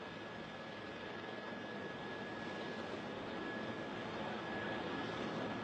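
An airplane with a faulty front landing gear rolls down the runway after landing, making a continuous broad engine roar that stays steady and fairly loud throughout.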